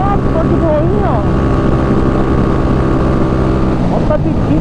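A Honda CG motorcycle with a 240cc engine is pushed hard on a highway, its engine droning loud and close with rising and falling pitch sweeps as it revs, while a rider talks over the noise.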